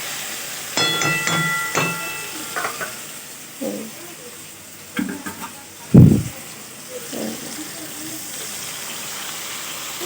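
Water hits a hot pan of frying potato curry (white aloo torkari) with tomato, giving a sharp burst of hissing sizzle amid scattered stirring clinks and brief quiet speech.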